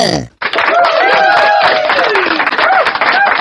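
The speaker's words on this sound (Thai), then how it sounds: "ครั้งนี้เป็นเสียงของหุ่นยนต์ปรบมือ" An applause sound effect triggered from a C100 sound card bursts in suddenly and loud as a full crowd of clapping with whistling, wavering cheer tones layered on top. It continues steadily after a brief cut-in at the start.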